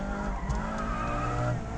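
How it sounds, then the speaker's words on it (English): A supercharged 2016-era ND1 Mazda MX-5 drives hard, its engine droning steadily up close with a brief tire squeal, loud and continuous without any talk. "This is a supercharged ND1 MX-5."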